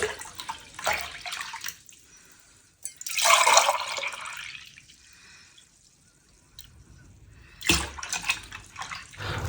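Milk poured into a pot for making junnu, bursts of splashing liquid that swell and fade, with drips and clatter between pours, close and fairly loud.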